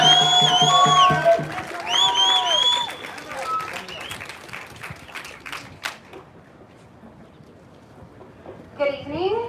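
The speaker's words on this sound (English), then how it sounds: "so really give a big round of applause." Crowd applause and cheering at a Democratic National Convention protest rally, a dense burst of clapping and whoops under voices that fades after a few seconds into murmuring crowd noise, with a brief swell of cheers near the end.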